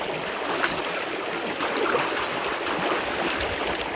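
Steady rush of running water as sandals are washed under it outdoors in a village, a continuous close splashing hiss with slight scrubbing variations and no talking.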